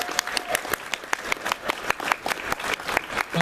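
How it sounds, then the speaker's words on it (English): An audience claps at a furry convention's opening ceremony, a dense, steady round of applause with sharp individual claps throughout. "give yourselves a round of applause for that"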